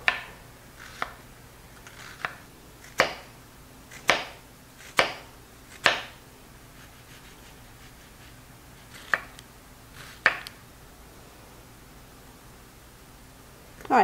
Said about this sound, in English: I'm going to cut through the onion 3/4 of the way through.